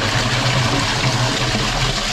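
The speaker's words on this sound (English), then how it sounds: "Okay, so now they're flushing upstairs." Water rushes steadily through the drain pipes of a house with a blocked drain as toilets are flushed upstairs, a loud, continuous gushing roar with no pauses.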